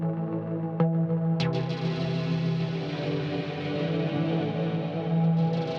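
Serum dub chords soaked in reverb and delay, a sustained smeared wash of echoing synth tones with a couple of sharp chord stabs early on that blur into a steady, dense tail.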